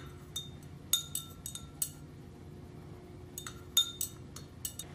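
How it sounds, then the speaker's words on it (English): A glass rod or spoon clinks against laboratory glassware while a warm solution is stirred, giving light, ringing taps in two loose clusters against a faint steady hum. "I'm gonna stir it."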